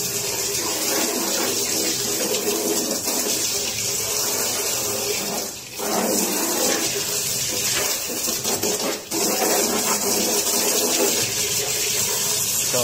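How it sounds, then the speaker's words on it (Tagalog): Steady running tap water pours and splashes over a washing machine lint filter being rinsed clean, a continuous close, loud gush with brief dips in flow. "So, linisin lang natin ng tubig."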